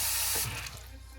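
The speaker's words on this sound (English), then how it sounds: "turn the sink right on to cold water and fill this up to, same thing, about 2 inches above the eggs" A kitchen sink tap runs cold water into a pot of eggs, a steady close broadband rush that softens slightly as the pot fills, with no talking.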